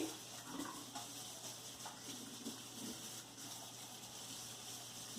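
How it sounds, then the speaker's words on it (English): A kitchen tap runs steadily while a spatula is rinsed under it, giving a continuous hiss of running water with faint splashing. It stays fairly quiet and unbroken for about five seconds. "Wash the spatula off so that I can use it to separate out the brownie."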